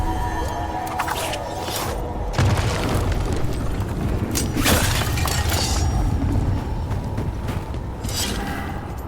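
A Blight growth being destroyed in Dragon Age: The Veilguard, a loud crunching shatter and booming burst with rumbling, breaking debris, followed by sustained heavy noise that fades slightly toward the end.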